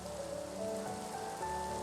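Steady rain falls in Minecraft, a soft continuous patter across the whole stretch, quiet and even, with faint tonal game music lingering underneath.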